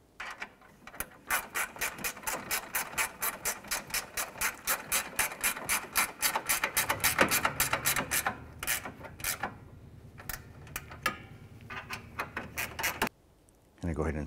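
A hand ratchet clicks rapidly and steadily while snugging down bolts on the A/C condenser of a 2012-2017 Toyota Camry, close and crisp, slowing into shorter bursts toward the end.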